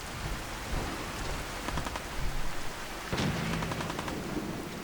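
Heavy rain in the Fallout 4 video game pours down as a dense, continuous hiss, loud and close throughout, with a sharper crack-like burst partway through and no talk over it.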